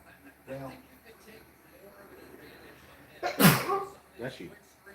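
A single loud, sharp sneeze bursts out during a Chicago Bears versus Houston Texans football livestream commentary, standing clearly above the surrounding conversation. Several people talk before and after it.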